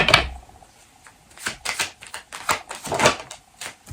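Tarot cards are pulled one after another from a deck, giving papery riffling and sliding swipes in uneven bursts, close and fairly crisp, with no talk over them.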